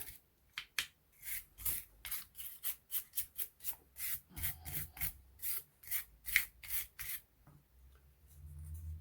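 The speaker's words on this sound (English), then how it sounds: "we just take a cloth and wipe off the excess oil" Cloth wiping excess oil off disassembled CZ Scorpion Evo 3 parts, a run of short, close rubbing and scrubbing strokes in quick irregular rhythm, fading to a soft low rustle at the end, with no voices.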